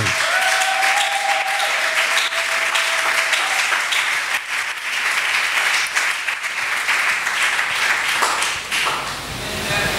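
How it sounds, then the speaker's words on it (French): A church congregation applauds for the Lord, a full room of steady, dense clapping that keeps up strongly from start to finish, with some voices mixed in. "Est-ce qu'on peut acclamer pour le Seigneur?"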